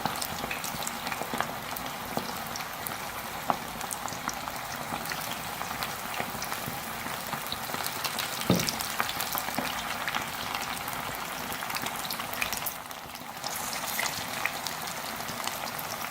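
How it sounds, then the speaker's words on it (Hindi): Chicken pieces deep frying in hot oil over a medium flame for a crispy spicy fried chicken, a continuous bubbling sizzle, close and steady throughout, with no talking. "एक एक करके पीस शामिल करते जाएंगे। मीडियम फ्लेम पे फ्राई करेंगे।"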